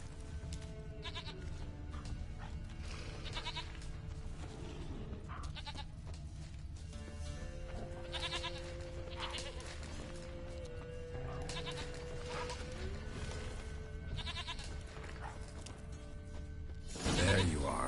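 Goat bleating in The Witcher 3, heard as a few wavering bleats scattered over steady game ambience and music, with a louder burst near the end.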